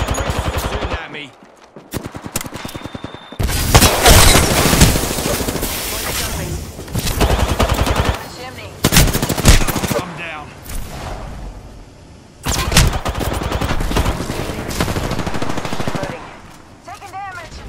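Gunfire in the Apex Legends video game, dense bursts of automatic weapon fire and shots in several loud volleys separated by brief pauses, with voices talking over parts of the action.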